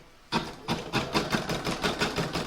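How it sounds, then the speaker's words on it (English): An embroidery machine stitches an outline in the hoop for an in-the-hoop scrappy heart design, a quick regular chatter of needle strokes, about four per second, close and moderately loud. "I'm now going to pop that in my machine, and I'm going to stitch round number 1, which is going to give me the outline and positioning for my batting."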